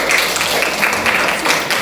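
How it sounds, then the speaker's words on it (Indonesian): Steady applause from a class group, a continuous wash of many hands clapping throughout. "Kasih tepuk tangan buat kelompok."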